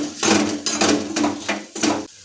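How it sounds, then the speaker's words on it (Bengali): A ladle stirs ground spices in a pan over low flame, producing four or five distinct scraping strokes in a quick rhythm, close and fairly loud, ending abruptly. "তাই এটাকে আমরা ভালোভাবে হাতা দিয়ে মিনিট তিনেক ধরে লোক ফ্লেমে কষাতে থাকবো"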